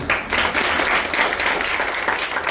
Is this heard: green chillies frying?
no